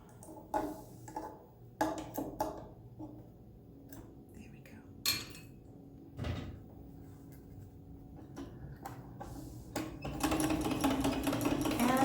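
A Heritage Square treadle sewing machine sews a seam in elastic fabric. Scattered clicks and knocks come first, then a close, busy rattle of stitching builds near the end, with soft speech in between.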